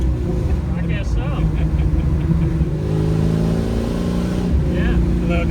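The supercharged V8 of a 1968 Chevrolet Camaro drones steadily from inside the moving car, a loud, continuous low engine rumble with slight swells of revs.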